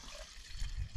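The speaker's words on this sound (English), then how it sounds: "So yeah, pour a little bit of that into the gun." Standard paint thinners are poured into a paint spray gun cup during work on a fibreglass bumper for a 1992 Nissan 300ZX twin turbo, giving a faint, close trickling and gurgling of liquid.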